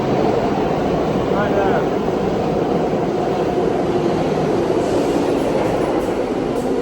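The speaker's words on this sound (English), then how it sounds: "There is downtown local 1 train to South Ferry approaching the station" A downtown local 1 subway train to South Ferry rumbles into the station, a loud, steady roar with faint wheel squeal as it nears the platform, and a voice speaks briefly over it.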